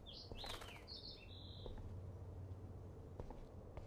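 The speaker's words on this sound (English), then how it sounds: "I can hear another bird." Birds chirp in the video game Life is Strange: a few short, high tweets in the first second and a half, with a soft flutter of wings, over a steady low ambient hum.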